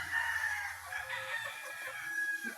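A rooster on a gamefowl farm crows once in a fairly faint, drawn-out call, heard alone with no voices.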